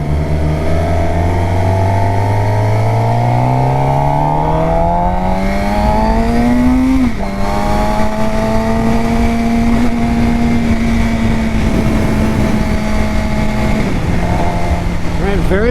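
A 2024 Suzuki GSX-R750 sport bike with an aftermarket exhaust pulls hard at close range. Its loud engine note climbs steadily in pitch, drops sharply at each gear shift, then climbs again.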